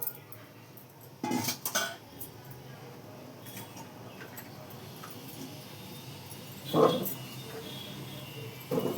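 Metal pots and lids clank and clink close by in a few short bursts, with quieter rustling between them, as a lid goes onto a pot of snakehead fish curry.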